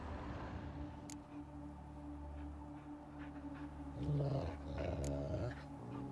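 Dogs growling low and steady in The Witcher 3, a continuous rumbling snarl that swells louder toward the end, with faint ambient sound behind it.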